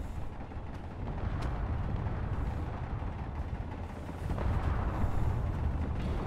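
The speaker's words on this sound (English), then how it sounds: "I could see the explosions happening." Missile explosions in the space combat game Space Engineers during a massive battle at a volcanic foundry, a continuous low rumbling roar of blasts that swells louder toward the end, with no talking.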